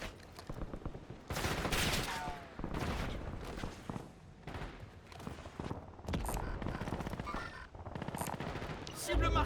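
Gunfire in the video game Warzone, with dense bursts of automatic fire and heavy shots repeating loud and close throughout, over a low droning backdrop. Game voices speak intermittently between the volleys.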